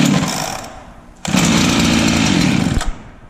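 Chainsaw yanked by its pull cord sputters into a brief half fire, a loud, close, raspy engine burst that fades, then flares again for a second and a half before cutting out.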